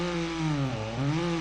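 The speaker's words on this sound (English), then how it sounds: "This thing really does sound like a little fucking lawnmower though" A small van engine in a video game gives a steady, buzzy, lawnmower-like drone that dips briefly in pitch and then rises again. It stays loud and constant throughout, with no talking.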